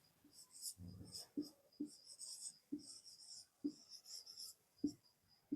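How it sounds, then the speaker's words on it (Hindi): A pen or marker scratches out numbers by hand, a series of soft strokes and taps in an irregular rhythm, close and quiet with no talking. "पहले लिख लेता हूं"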